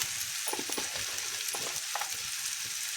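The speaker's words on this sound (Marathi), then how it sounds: "आता आपण बारीक मीठ याच्यात आता फिरवून घेतोय चवीनुसार" Okra (bhindi) sizzles in a pan over a rural wood-fired stove while salt is stirred through, a steady close frying hiss with soft irregular scrapes of stirring and no voices.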